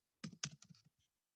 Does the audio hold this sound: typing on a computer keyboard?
yes